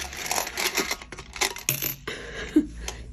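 Coins spill out of a metal money tin in a quick, close cascade of bright clinks and jingles, scattering and settling with a few last rattles.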